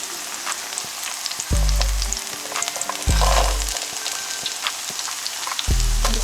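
Frozen vegetables and prawns for fried rice sizzle loudly in a hot pan, a dense crackling hiss with occasional stirring thumps, close by and without talk.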